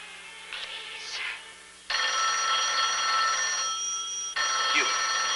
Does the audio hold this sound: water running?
no